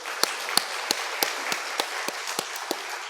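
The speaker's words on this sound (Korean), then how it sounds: "우리는 박수로 찬양." A church congregation claps in praise during a worship service, about nine separate, evenly spaced hand claps that form a slow, steady rhythm. The claps are fairly faint and sit over a soft background hiss.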